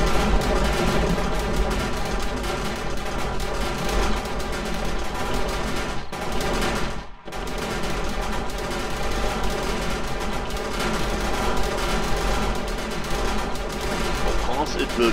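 Automated turrets in Borderlands firing sustained, dense bursts of gunfire, loud and continuous like machine-gun volleys with a brief lull midway, under a steady layer of game noise.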